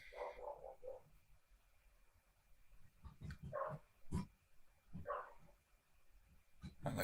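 Dogs bark faintly in the background in several short, scattered bursts over a quiet outdoor ambience, with sharp knocks between them.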